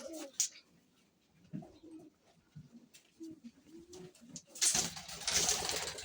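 Soft pigeon coos come and go in the background, with scattered rustling and a louder burst of noise toward the end.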